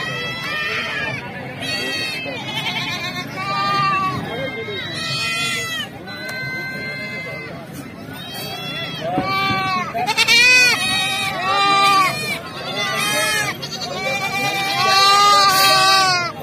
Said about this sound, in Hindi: जसवंत नगर की बकरा मंडी में बच्चे देखने को मिल जाएंगे